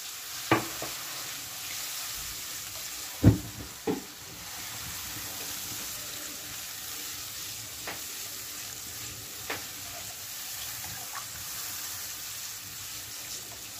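Masala for a mixed vegetable sabzi fries in a pan with a splash of water, giving a steady, close hiss that runs throughout. A few sharp spoon knocks and scrapes punctuate it near the start and middle.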